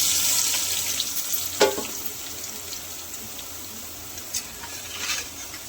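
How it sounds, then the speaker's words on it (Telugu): Soaked, squeezed soya chunks (meal maker) drop into hot oil in a pan and fry with a steady, close hiss, broken by a couple of brief clinks. "నూనె వేడయ్యాక మిల్ మేకర్ వేసేద్దాం"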